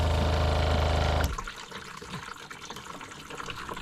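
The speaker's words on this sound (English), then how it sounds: "It's a pretty substantial leak." Water gushes loudly from an open tap for just over a second, then cuts abruptly to a softer, irregular trickle and splashing that continues to the end.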